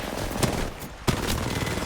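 Apex Legends gunfire during a collegiate esports match, a couple of sharp shots over a steady, dense game mix.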